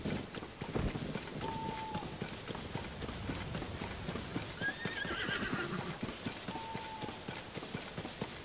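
Video game sounds: rapid hoofbeats drum steadily as a horse gallops, with a couple of short whinnies over the running rhythm and a brief high chime partway through.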